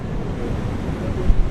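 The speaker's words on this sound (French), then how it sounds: "Les vagues nous empêchent de dormir." Sea waves break on the shore as a steady low rumble of surf mixed with wind buffeting the microphone, loud and continuous, with no speech.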